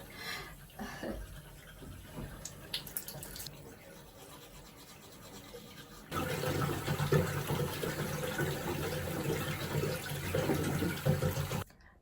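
Tap water runs in two stretches, quieter at first and then a louder steady gush of mixed hot and cold water, with faint clinks and movement nearby.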